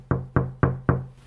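Four evenly spaced, solid knocks on a door or wooden surface, heard as a sound effect in a fairy-tale narration, close and crisp, each with a brief decaying thud and no talking.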